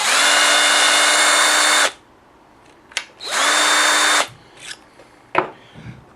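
A power case trimmer whines as it trims a 5.56x45mm brass cartridge case, two loud steady motor runs of about two seconds each, separated by quiet clicks and handling noises of brass against metal.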